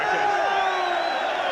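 A huge boxing arena crowd of about 22,000 fans at the Tszyu vs Hatton fight roars in a steady wall of cheering and whoops, loud and unbroken throughout.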